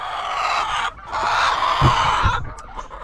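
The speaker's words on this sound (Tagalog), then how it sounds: "pakain muna tayo dito sa aking mga decaled white na nandito sa dulong kulungan" White decaled chickens in a coop at feeding time make short, close clucks and chattering over a constant background rustle.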